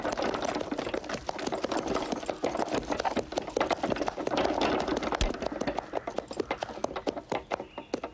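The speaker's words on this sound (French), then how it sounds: "Ce sera tout. Vous pouvez rentrer le cheval." A horse drawing a carriage clip-clops steadily in a continuous run of close hoof beats, loud and alone, in a period drama set in Victorian England.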